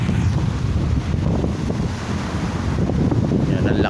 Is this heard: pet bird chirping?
no